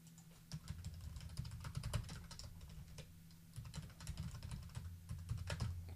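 Quiet typing on a computer keyboard, a fast irregular run of light key clicks close to the microphone, continuing for several seconds with no voices.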